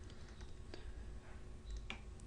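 Soft, scattered clicks of a computer keyboard as a line of code is typed, faint and close over a steady background hum, with no speech.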